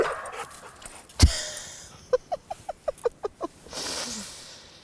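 A playful dog gives a quick series of about eight high yips in a steady rhythm, close by, after a sharp thump, with faint rustling around it.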